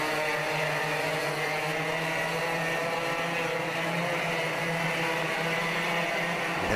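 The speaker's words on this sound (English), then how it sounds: "will all the karts refire? Yes, they do." Racing kart engines at a kart circuit run together in a steady, loud, dense drone that holds the whole time, with no one speaking.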